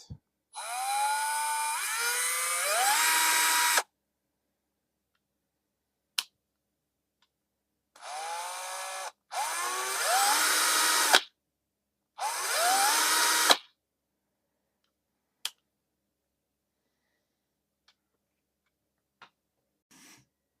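A Bosch Professional GSB 120-LI cordless combi drill whirs in several bursts, each spinning up to a steady high whine and stopping abruptly, separated by silence and a few faint clicks.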